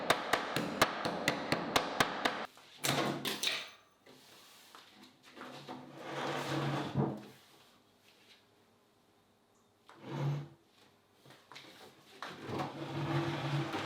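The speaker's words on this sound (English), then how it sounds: "I'm going to whack it with a hammer" A hammer whacking stuck, paint-covered door hinges: a quick run of sharp metallic strikes at first, then scattered heavier knocks and scraping, close, with silent gaps between.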